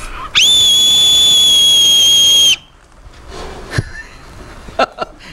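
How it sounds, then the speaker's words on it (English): A kitchen kettle with a temperature gauge whistles loud and steady for about two seconds, a sustained shrill tone that cuts off abruptly, followed by quieter room noise and a few faint knocks. "It's a whistle. It's a kettle."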